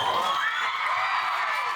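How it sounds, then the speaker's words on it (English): Audience at a cosplay event applauds and cheers loudly for a costumed performer, a dense continuous wash of clapping and shouts throughout. "Massive applause."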